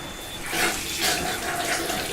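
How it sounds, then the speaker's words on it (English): Strong alkaline Kangen water at pH 11.5 runs onto a fresh clean cloth, a short, steady hissing trickle of flowing water heard close and alone. "we're going to run a little bit of strong alkaline Kangen water"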